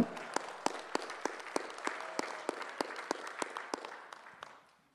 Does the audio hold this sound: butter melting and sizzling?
no